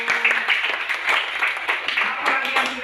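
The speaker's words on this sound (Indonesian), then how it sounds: "tepuk tangan buat teman-teman" Classmates in a school lesson clap together, a short run of quick, fairly close claps with faint voices and some tonal background mixed in.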